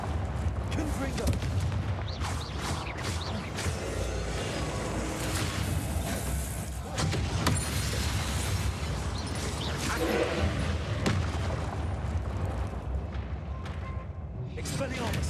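Confringo blasting spells in a Harry Potter video game, repeated booming explosions and crackling impacts layered over a dense, loud game mix, with someone talking throughout.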